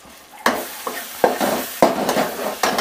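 Fresh coriander leaves are stirred into sizzling tomato gojju, with four or five distinct scraping strokes in the pan over a steady frying sizzle, close and clear.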